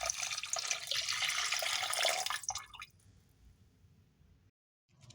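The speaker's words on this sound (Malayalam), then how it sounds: "ഇനി മിക്സിയുടെ ജാറിലോട്ട് അല്പം വെള്ളം ഒഴിച്ചു കൊടുത്ത് നമുക്ക് അതും കൂടി ഇതിലോട്ട് ചേർത്ത് കൊടുക്കാം." Water rinsed from a mixer jar is poured into a clay pot of fish curry, a soft splashing, dripping pour for a couple of seconds that trails off into quiet.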